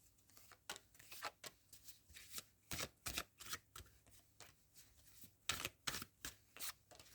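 Osho Zen oracle card deck being shuffled by hand, a series of quiet, close, crisp riffling bursts in an uneven rhythm with brief pauses between, no talk.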